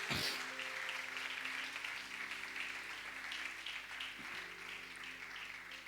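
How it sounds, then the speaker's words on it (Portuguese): A church congregation applauds together during a worship service, a steady wash of clapping that fills the room at even loudness from start to finish, with a few faint voices mixed in. "Podemos aplaudir glorificando ao Senhor Jesus"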